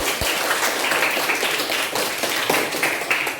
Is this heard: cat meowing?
no